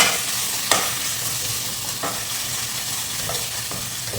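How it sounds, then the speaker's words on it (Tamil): Ginger garlic paste frying with onions for a potato brinjal kheema makes a loud, dense sizzle close up, broken by occasional scraping clicks as the mixture is stirred. "ஸோ அப்படியே ஜிஞ்சர் கலி பேஸ்ட் போட்டுக்கலாம்."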